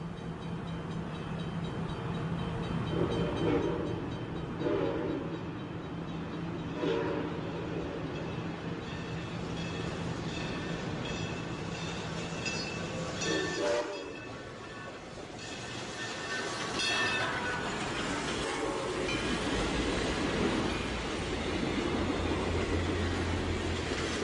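Southern Pacific 2472 steam locomotive rolls past a sugar refinery, a steady heavy rumble of the train with rhythmic chuffing and clanking that briefly dips and then swells again, heard from nearby without any talk.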